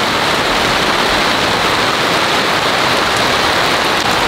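Heavy rain pours steadily and loudly beside a swelling mountain stream, a dense unbroken hiss of water filling the scene with no speech.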